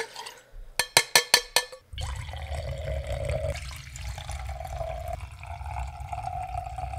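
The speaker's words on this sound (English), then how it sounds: "I'm going to be using a 1-to-3 ratio of espresso to water, so I'll be adding in 120 grams of water into each." Water poured into glasses holding espresso shots to make americanos, a close, steady trickling pour that runs continuously after a short burst of sharp clicks at the start.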